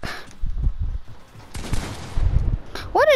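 Gunfire in the Fortnite video game rings out as two loud, rapid bursts of shots in close succession, with a brief rising whistle-like tone right at the end.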